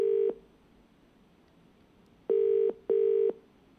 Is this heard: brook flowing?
no